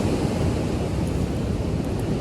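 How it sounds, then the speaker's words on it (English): Strong wind roars steadily against the microphone on the Appalachian Trail, a dense, continuous rushing noise with no pauses. "it is so windy"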